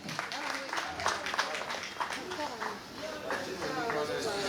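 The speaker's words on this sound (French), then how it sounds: "Une fois de plus, des applaudissements à leur endroit, s'il vous plaît, les jeunes leaders." Applause from guests at a birthday party, a dense spread of hand claps that holds for several seconds and mixes with voices talking over it.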